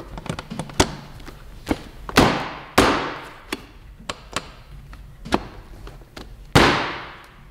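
Passenger seat of a Yamaha YZF R7 sportbike being fitted and banged down into place, giving several sharp close knocks and thumps, with two or three heavier slams standing out among lighter taps.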